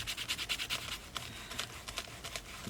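Fingertip rubbing water over the lumpy, textured cover of a mixed media art journal, giving soft, close scratchy strokes in a quick uneven rhythm, some bursts brighter than others, with no talking.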